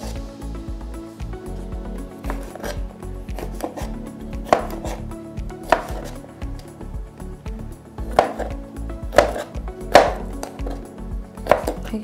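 A knife chops vegetables into large cubes on a cutting board for a chicken rice dish, giving a steady run of close, sharp knocks with a few louder strikes, and no talking.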